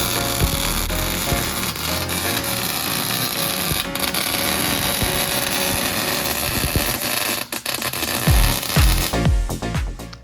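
Welding tacks being burned in on a ball joint repair on a Ford Super Duty truck: a loud, steady crackling hiss that runs for about nine seconds, then breaks into a few clunks.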